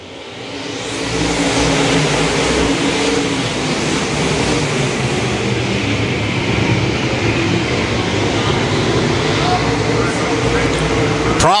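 E-mod dirt race cars roar around the Central Missouri Speedway oval in a loud, continuous engine drone that swells steadily from the start and stays dense throughout, with a track announcer's voice running over the noise.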